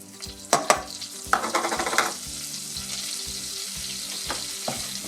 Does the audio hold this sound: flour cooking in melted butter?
yes